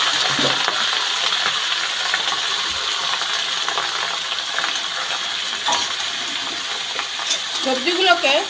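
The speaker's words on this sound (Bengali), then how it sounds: "সবজিগুলোকে আমি ভালো করে ভেজে নেব মশলা দিয়ে।" Chopped vegetables fry with spices in a pan for khichuri, giving a steady sizzle with scraping and clinking as they are stirred, close and fairly loud, with a few soft voice sounds near the end.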